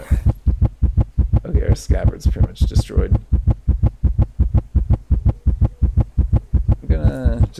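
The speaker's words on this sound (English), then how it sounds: "Apologize for the heartbeat again." A steady, thumping heartbeat loops in the survival game Cataclysm: Dark Days Ahead, about three beats a second, loud and regular under a man's speech.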